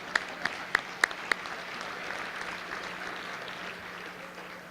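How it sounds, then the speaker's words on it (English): Breakfast audience at a mayor's Thanksgiving event claps together at a distance: a few sharp individual claps up front, then steady, even applause filling the room to the end. "Give yourselves a round of applause there"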